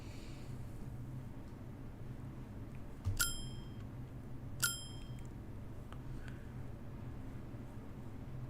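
Two bright bell dings ring out in an indie game made for Ludum Dare 58, spaced about a second and a half apart over a quiet hum, with no speech.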